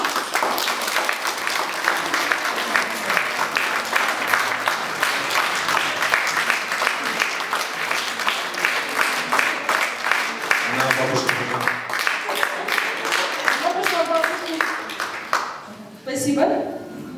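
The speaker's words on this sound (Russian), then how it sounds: "Ваши аплодисменты." Audience applause at a couples contest on a stage in Yakutsk, sustained dense clapping that fills most of the stretch, with a voice speaking over it and a brief lull near the end.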